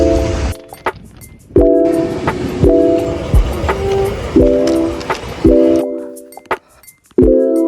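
Train at a railway station blasting its horn in repeated loud, sustained honks separated by short gaps, with rolling rail rumble and clatter between the blasts, close by and dominant.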